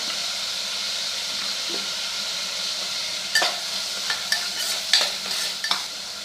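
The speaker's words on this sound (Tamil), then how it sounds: "வெங்காயம் கலர் சேஞ்ச் ஆகணும். அது வரைக்கும் வதக்குங்க." Two medium onions with a little salt being stirred and sautéed in a pan for Tamil-style tomato biryani, giving a steady soft sizzle with a few sharper scraping clinks from the spoon near the end; no talking.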